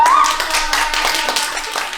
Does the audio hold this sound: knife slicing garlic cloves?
no